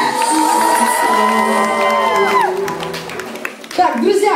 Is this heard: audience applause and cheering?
yes